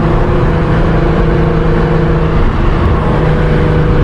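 A 1300 bhp Nissan GT-R R35 running E85 with heavy turbo boost pulls hard under full throttle, a loud, continuous engine roar filling the cabin without letup.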